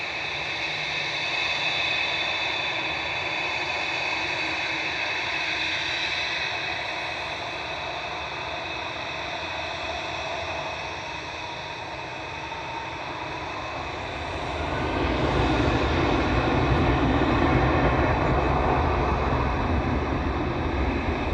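A TUI Boeing 787 Dreamliner jet, a sustained engine roar with a high whine that softens midway and then swells louder as the aircraft draws closer.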